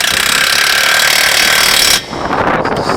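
Impact gun with a 22 mm socket tightening a front strut bolt on a Toyota Camry: a loud, continuous rattling burst lasting about two seconds, then cutting off abruptly.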